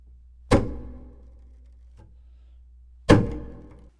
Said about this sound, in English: I'm going to play a chop stroke on the high two strings